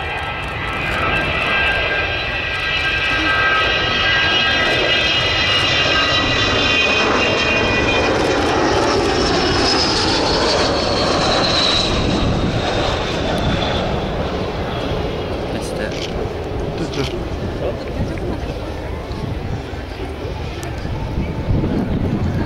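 An Avro Vulcan bomber with four Olympus jet engines approaches and flies past at an airshow, a broad roaring jet sound that swells and sweeps in pitch, mixed with wind buffeting on the microphone.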